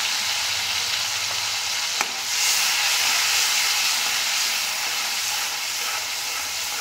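Garlic, green chili and coriander paste with turmeric sizzling steadily in hot oil, a continuous bright frying hiss close by with one sharp click of a utensil partway through.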